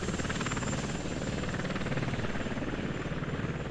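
A helicopter in a military video game set at an Iraqi airfield drones with a steady, loud, close rotor chop and engine whine throughout, with no voices over it.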